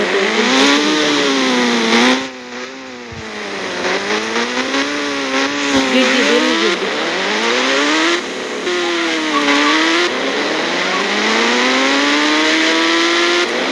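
A motorcycle engine in a video game revs hard and continuously, its pitch rising and falling in repeated swoops as it accelerates and eases off, loud and close with no pauses.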